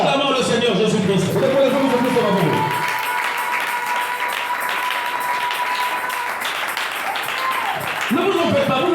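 A church congregation breaks into sustained applause that swells after a voice and carries on as a dense, even wash of clapping, with a sustained tone and voices mixed in.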